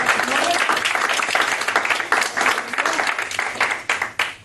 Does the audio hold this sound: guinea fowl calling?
no